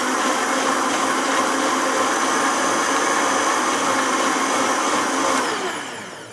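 A high-power blender whirs loudly and steadily as it blends a smoothie, a continuous roaring motor whine that holds level before tapering off near the end.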